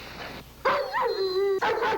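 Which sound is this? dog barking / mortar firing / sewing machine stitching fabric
dog barking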